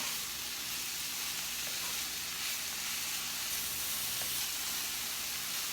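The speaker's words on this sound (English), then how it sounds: "So we're gonna saute this up for about 2 to 3 minutes" Mushrooms saute in a pan for a vegan alkaline scallops dish, giving a soft, steady sizzle and hiss that runs quietly and evenly, with only faint occasional ticks and no talking.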